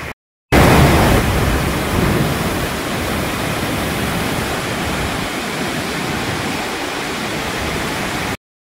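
Fast-flowing river water in Himachal Pradesh, a steady loud broadband rush that holds constant and fills the scene, with no voices over it.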